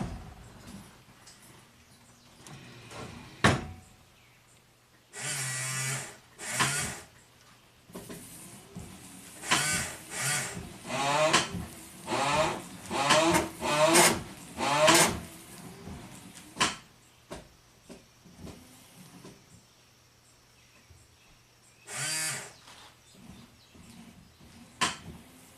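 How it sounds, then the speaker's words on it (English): Headlight washer pumps on an '84 Porsche 928 S spraying in several short whirring bursts with gaps between, close and fairly loud against a quiet background. "let's test drive these washers. The headlight washer should come on"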